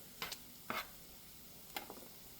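Diced corn tortillas being stirred into frying chorizo in a pan, giving a few brief scraping strokes over a soft, steady sizzle, fairly quiet and with nobody talking.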